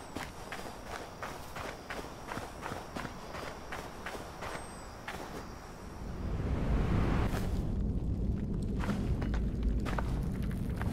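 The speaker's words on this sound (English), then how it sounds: "you see the player walking down some snow, and you can hear the snow quite profoundly" Footsteps crunch through snow in the video game Hytale, a steady close walking rhythm of regular crunching steps over wind and ambient background noise, growing denser and louder partway through.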